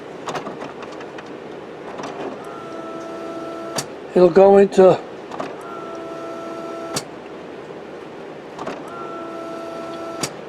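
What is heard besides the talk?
HP Officejet Pro printer mechanism charging ink system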